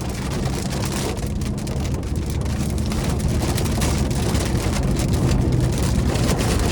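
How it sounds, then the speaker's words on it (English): Heavy sudden rain and gusting wind batter a 2024 Toyota Corolla Hatchback SE on a test drive, a dense, loud, steady roar of drops drumming on the car with road noise beneath, no voices. "Now it is starting to rain here"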